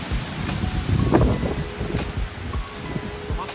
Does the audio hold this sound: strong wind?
yes